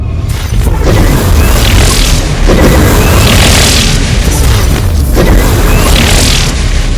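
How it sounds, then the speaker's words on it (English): Repeated booming explosion bursts from structures being destroyed in the Ingress Prime mobile game, loud and dense with whooshing debris across the whole span, hits recurring every couple of seconds. "Resonator destroyed. You are under attack."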